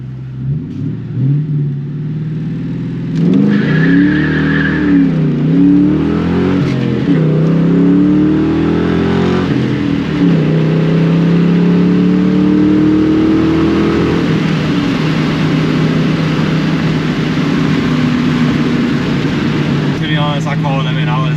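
Ford Mustang GT launching with wheelspin, its engine revving loud and close and rising through gears before settling into a steady drone, with people talking over it.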